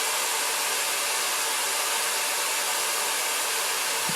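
A CNC cabinet cooler running on compressed air at 80 psi produces a steady, even rushing hiss like a hair dryer, loud and unbroken throughout.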